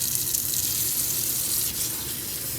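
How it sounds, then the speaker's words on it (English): A kitchen tap runs steadily into a sink to rinse Dawn dish soap from eggshells, a continuous bright hissing gush at close range with no voices. "So now we're going to run water"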